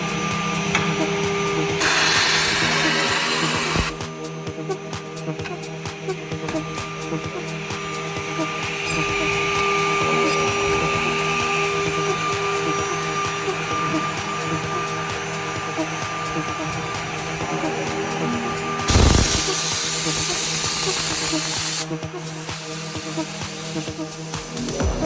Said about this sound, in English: Watch in one take how perfect our narrow strip edge banding is.